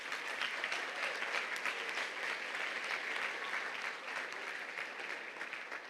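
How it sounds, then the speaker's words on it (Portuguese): Worship congregation in a Portuguese-language church service breaks into steady applause, dense and even, many hands clapping at once and tapering slightly toward the close. "Aplauda o Senhor"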